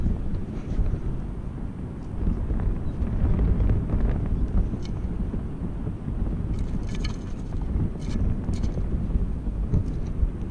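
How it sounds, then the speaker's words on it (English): Strong, gusty wind blowing across a beach buffets the microphone, a steady loud low rumble throughout with no talking. "this wind is horrendous"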